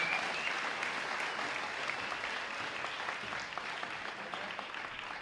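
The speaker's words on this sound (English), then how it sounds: "Karen, let's give her a big round of applause" Steady applause from a comedy or storytelling audience at a Moth-style live event, sustained and fairly even across the whole stretch, heard from within the room.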